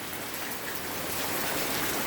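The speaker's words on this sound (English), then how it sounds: "This is the rainy season, the rainy day." Steady rain pouring down on a rainy-season day, a dense even hiss with no breaks, close and moderately loud, with no voices.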